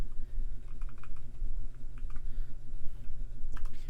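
Rapid clicking of computer keyboard keys as code is typed, soft and close, with irregular bursts of keystrokes and no talking.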